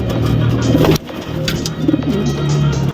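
Pigeons cooing close by in low, throaty, repeated calls, with a soft hum of background noise.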